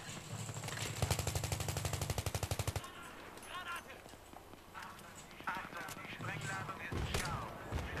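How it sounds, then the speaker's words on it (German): Rapid machine-gun fire in Battlefield 3 aimed at a tree, a close rattling burst of about a dozen evenly spaced shots, followed by scattered single shots and battle noise while someone talks over it. "gegen den Baum zu schießen macht nicht so viel Sinn"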